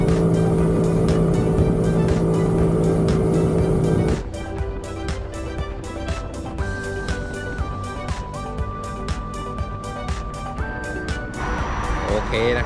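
A Yamaha PG-1 motorcycle rides along a road at about 80 to 90 km/h, its engine a steady drone under rushing wind noise, with a faint melodic tone coming and going over the ride.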